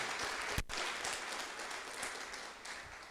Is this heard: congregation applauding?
yes